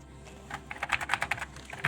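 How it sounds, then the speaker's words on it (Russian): Keys clacking on a worn, dirty 1990-era EC1841 computer keyboard, a dozen or so quick irregular presses close up against a low steady hum, with no talking. "Нажимается не так, чтобы плохо."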